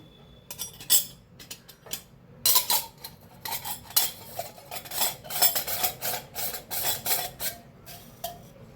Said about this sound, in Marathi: इथं घेतलेला आहे चकलीचा साचा, बसवून घेते।